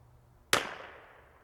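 A single sharp crack from a CZ 457 bolt-action .22LR rifle fired at a target outdoors, close and sudden, with a short fading tail after it and quiet before.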